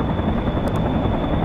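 A helicopter in the World in Conflict video game holds a steady, loud rotor buzz through the whole short stretch, with no voices.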